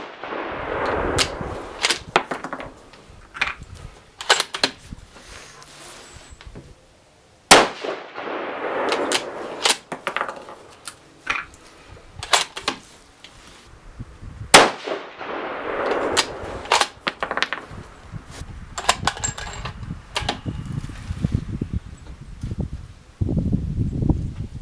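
Rifle shots from a 6mm ARC firing 87gr Hornady V-Max bullets crack out one at a time at irregular intervals. The sharp reports ring loud against a quiet outdoor background, with no talking.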